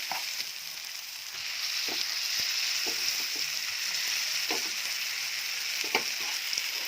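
Mashed roasted eggplant hits a hot pan and fries with a steady close sizzle, with occasional soft stirring clicks and scrapes.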